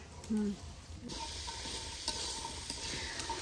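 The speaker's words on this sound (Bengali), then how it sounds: "আম্মু ছোট আলু ভাজি করতেছে" Small potatoes fry in a home kitchen pan, giving a steady sizzle with occasional stirring scrapes and a brief clunk near the start.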